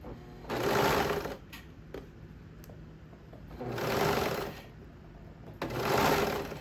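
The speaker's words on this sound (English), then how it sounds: "I'm gonna wait for my serger to catch the elastic, which it just has." A serger sews elastic onto swimwear fabric on the wrong side, running in three distinct whirring bursts separated by short quiet pauses, close and clear with no talking.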